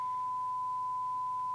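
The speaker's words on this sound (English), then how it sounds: "I'm now going to maximize that sine wave which it's displaying" A steady pure sine tone from the speaker output of a Midland 77-104D CB radio on the bench during receive adjustment, a single unbroken faint hum holding one pitch throughout, alone with no talk.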